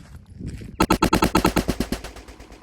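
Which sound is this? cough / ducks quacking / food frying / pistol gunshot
pistol gunshot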